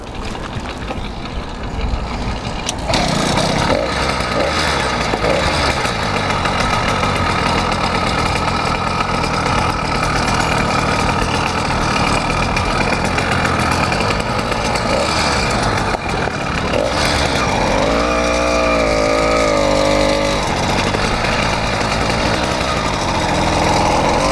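An 80cc motorized bike engine starts and runs, a loud, steady, buzzing small two-stroke idle heard up close with a brief rev change near the end.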